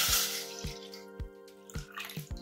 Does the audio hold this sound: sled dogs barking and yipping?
no